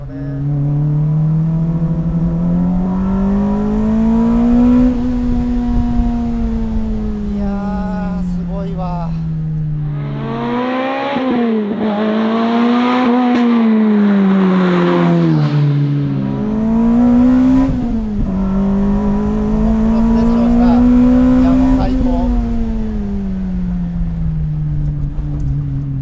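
A Lotus Elise R Special engine pulls hard on a winding road, its note climbing through the revs, dropping at shifts and climbing again, loud and close, with someone talking over much of it.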